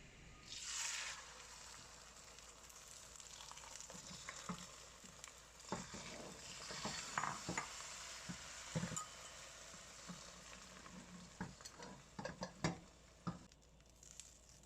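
An egg pancake frying in a hot pan gives a steady close sizzle, broken by irregular clicks and taps from the pan and utensil, with no one talking.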